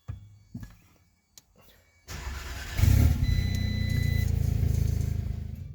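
An Audi S3 with a brake switch circuit fault cranks and fires up, the engine catching after a short start and settling into a loud, steady idle, preceded by a few faint clicks.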